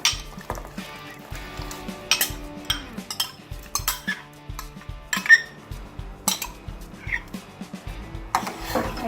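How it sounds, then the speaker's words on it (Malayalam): Soaked china grass being stirred into boiling water in a pot on low heat, with a spoon clinking and scraping against the metal in quick, uneven strokes that sound close and clear, with no voices. "എന്നിട്ട് നന്നായി ഇളക്കി കൊടുക്കണം."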